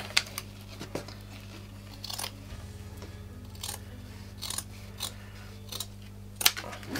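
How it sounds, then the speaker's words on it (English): Scissors snip through grass fibres for model railway scenery in a narrow gauge station layout, giving a series of quiet, irregular close-up cuts over a low background hum. "I'll work my way along with the scissors"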